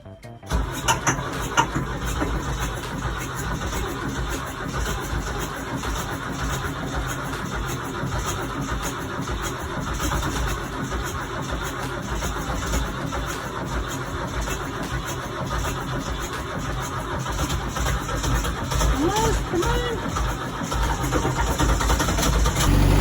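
A 43-year-old engine cranks and turns over, then settles into a steady, rough idle that rumbles on continuously at close range.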